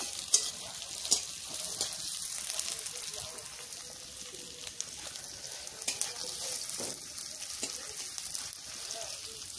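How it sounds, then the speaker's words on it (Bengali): Gahori-style meat with chili and bay leaf fries in a pan over a wood fire, a soft, steady crackle of sizzling with a few sharper pops and stirring scrapes, under faint background noise. "একটু ভালো করে ভেজে নেব"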